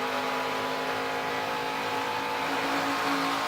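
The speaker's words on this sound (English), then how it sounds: "Listen to his throttle." A NASCAR Camping World Truck Series truck at Darlington Raceway at wide open throttle off turn 2: a loud, steady engine roar throughout with no break.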